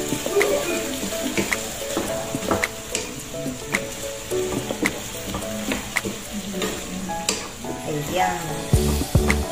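Broccoli stir-fried with shrimp in a pan sizzles steadily while a utensil scrapes and clatters against the pan in repeated sharp knocks.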